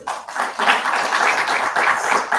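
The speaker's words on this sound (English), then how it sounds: "Can we give him a round of applause?" An audience applauds at a roundtable panel session, a continuous, moderately loud patter of many hands.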